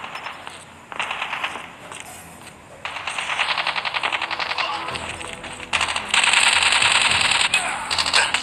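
Call of Duty Mobile gun-game gunfire in rapid automatic bursts with mechanical clatter, bursts starting and stopping across the stretch and growing louder toward the end, under faint game ambience.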